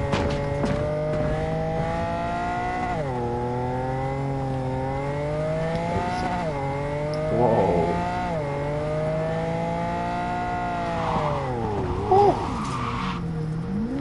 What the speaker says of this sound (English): Yeah, with this car, it's like night and day, it's so fast.